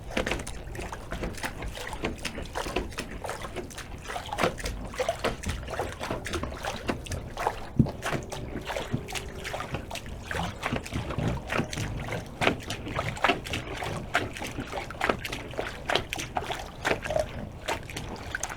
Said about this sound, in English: continue to just clean the water line with the wooden brush